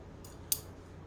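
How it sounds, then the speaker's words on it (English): Scissors snip a small slit in a fabric waistband while sewing bell bottom pants, two quick faint cuts close by in a quiet room. "take our scissors and we're going to cut a slit right there"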